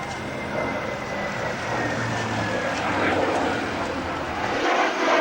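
A propeller aircraft and a jet fly past side by side at the Biggin Hill Battle of Britain Day airshow in 2004, a broad, sustained engine roar under a commentator's voice.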